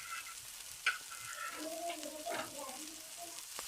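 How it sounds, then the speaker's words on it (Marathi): Besan-coated stuffed bread frying on a hot griddle gives a soft, steady sizzle with a brief louder crackle near the start, with no one talking. "तर मस्त असा फ्राय होताला."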